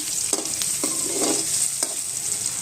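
Paneer fried rice being stirred and fried in a pan, with a continuous close sizzle broken by several scraping strokes of the spoon.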